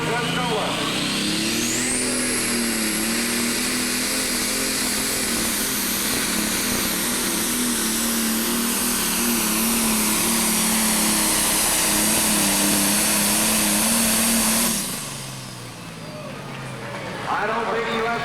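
A 10,000 lb class pulling tractor at an Illinois track roars steadily at full power as it hauls the sled, a loud sustained engine drone that rises at the start and drops off near the end.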